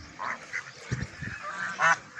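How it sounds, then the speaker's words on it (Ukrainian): Scattered honking calls from swans, a few short bursts spread across a couple of seconds, moderately close with soft background noise. "Так, наші лебеді. І качки."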